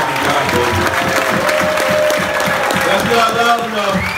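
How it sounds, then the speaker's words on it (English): A conference audience at a wholesaling event gives a loud, sustained round of applause with dense clapping, while a voice speaks over it. "This guy deserves a huge round of applause"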